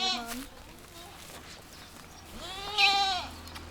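A small goat tied to a rickety bridge in Savannakhet, Laos, bleats twice, a brief call at the start and a louder, wavering bleat near the end, with faint outdoor background between.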